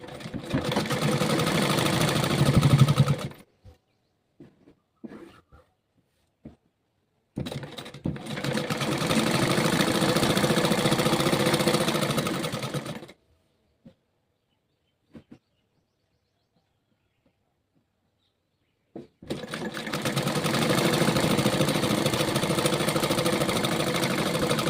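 Close, steady whir of a sewing machine stitching a kurti pocket in three long runs, broken by quiet gaps with a few light clicks of fabric handling.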